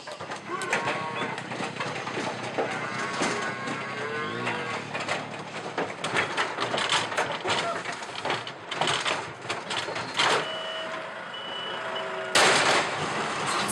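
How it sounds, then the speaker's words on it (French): A truck comes to a farm at dusk in November to haul away a cattle herd. Its reversing beeps repeat over a rumbling engine, with faint lowing from the cattle and outdoor noise all around. "À la tombée du jour, ce camion est venu emporter le troupeau vers l'abattoir."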